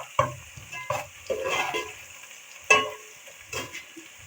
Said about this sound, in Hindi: इस टाइम पे आके हम इसमें सब ये लहसुन अदरक का पेस्ट शामिल करेंगे। 2 मिनट तक ऐसे ही भूनेंगे